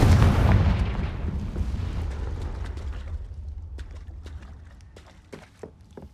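A Confringo blasting spell in the video game Hogwarts Legacy: one loud, close explosion at the start, then a long rumbling decay with scattered light crackles and clicks fading out.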